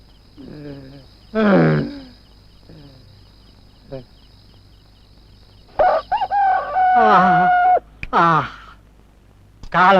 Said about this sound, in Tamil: சேவல் கூட ஏழு மணிக்கு தான் எழுந்துச்சு கூவுது